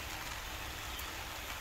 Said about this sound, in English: It's raining and it's nice gentle rain.